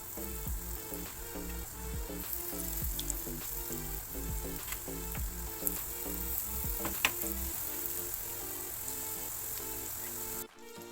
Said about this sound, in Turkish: dikkatli bir şekilde kızgın yağda arkalı önlü kızartın